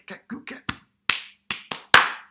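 A primary school music call-and-response game: a short pattern of eight sharp hand claps, close and clear, in a syncopated rhythm with a pause in the middle and a louder final clap.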